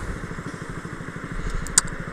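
A Honda Grom motorcycle engine pulls hard under throttle with a steady, pulsing exhaust drone and a sharp click near the end, loud and close, with no speech.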